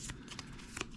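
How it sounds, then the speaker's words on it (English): Quick riffle of a card deck being shuffled in a card video game, a short soft flurry of papery flicks heard alone at low volume. "Again, you do have to shuffle."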